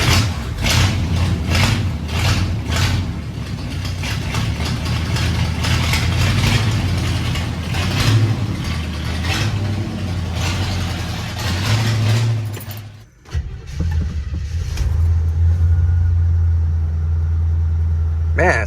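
A 1966 Chevrolet Malibu wagon engine catches and settles into a steady, close idle after some mechanical clatter, with a brief drop and restart, while people talk nearby.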